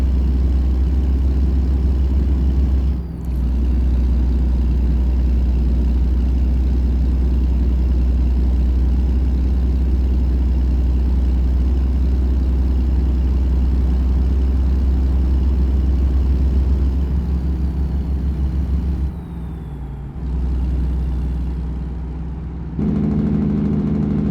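A truck engine in American Truck Simulator runs as a steady, loud, low drone, with a couple of short dips in tone as the revs change, and no talking.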